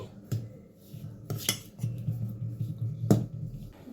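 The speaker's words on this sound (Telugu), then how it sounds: "ఇప్పుడు దీని అంతా బాగా కలపాలండి" A utensil clinks and scrapes against a bowl while chilli powder and turmeric are mixed into flour for ribbon pakodi, with several sharp knocks over a steady scraping rhythm, fairly quiet.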